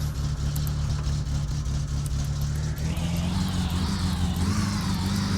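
Car engine in the game My Summer Car idling steadily, then rising in pitch as the car pulls away, a loud continuous drone with no talk.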